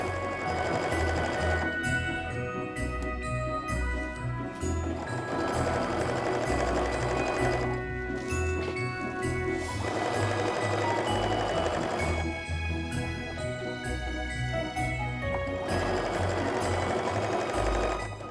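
A sewing machine chain-pieces a quilted snowflake mug rug, running in rapid mechanical bursts with brief pauses between seams, close and loud.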